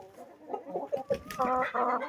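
Several chickens in a coop cluck close by in short, uneven bursts, with one hen's call rising louder toward the end; three newly added hens share the coop.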